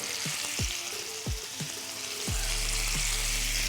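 Kebabs frying in a hot pan, a dense steady sizzle with several sharp popping crackles, close and loud, with no talking.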